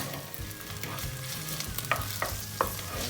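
Ginger, garlic and tomatoes fry on low heat in a pan, a steady soft sizzle with a few sharp clinks of a utensil stirring near the end.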